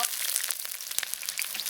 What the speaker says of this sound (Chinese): 有底油，先下洋葱炒